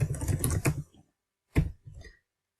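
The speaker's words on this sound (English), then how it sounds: "I'm typing in information while he's talking." Rapid clatter of typing on a computer keyboard, a dense burst of keystrokes followed by a pause and two shorter bursts, close and clear with no voices.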